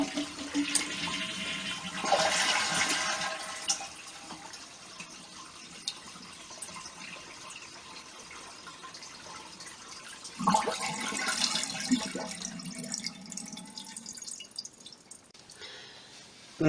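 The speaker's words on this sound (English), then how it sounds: "drain the tank by pressing the flush lever and holding it down until all of the water drains" A toilet tank drains while its flush lever is held down: two rushing surges of water, the second after a long quiet stretch, with gurgling and dripping in a small bathroom. No one speaks.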